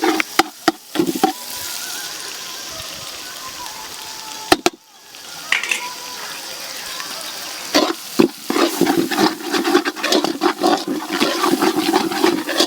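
Onions with homemade masala sautéing for chicken biryani, loud sizzling and clattering stirring strokes, with a sharp hiss as something is added partway through and vigorous scraping building toward the end.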